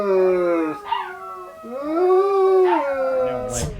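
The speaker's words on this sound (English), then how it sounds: "The puppies are howling in the other room as Jackson's getting into it." Puppies howl in another room aboard a sailboat in Sicily, a loud, drawn-out chorus of wavering howls with a yip and a rising whine near the end, and no talking over them.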